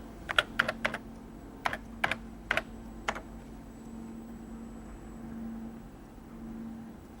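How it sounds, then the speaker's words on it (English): Bursts of computer keyboard typing, a few quick clusters of crisp key clicks, sound over a low steady hum, then give way to the hum alone. "Why do we have to input everything through the keyboard?"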